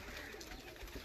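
Racing pigeons coo steadily from a rooftop loft in Punjab, a soft continuous murmur of several birds close by, with no talk over it.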